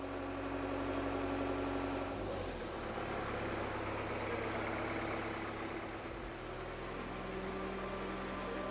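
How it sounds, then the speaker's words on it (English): Aircraft tractor pushing an Airbus A350 out of a hangar: a steady mid-range engine idle and hum with a broad wash of mechanical noise, holding level throughout, no voices. "The operator of the aircraft tractor grabs the nose wheel to carefully push it out of the hangar"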